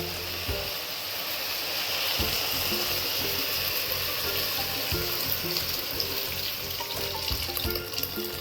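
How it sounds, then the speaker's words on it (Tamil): Tamarind water pours steadily into a pan with a continuous splashing hiss, close and even, with a few soft knocks underneath, while making kara kulambu. "இப்போ நம்ம கரைச்சி வச்சிருக்க புளி தண்ணியை அதில் கொட்டிடலாம்"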